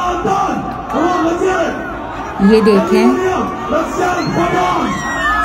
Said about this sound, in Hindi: बस सबके सब चिल्ला रहे हैं।